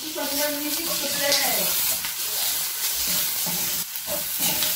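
Ginger and garlic sauté with onions in a hot pan, a continuous sizzle and hiss with occasional stirring scrapes running throughout.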